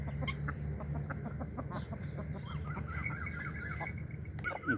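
A mother hen with chicks clucks softly and repeatedly close by, a busy murmur of short calls over a low background hum.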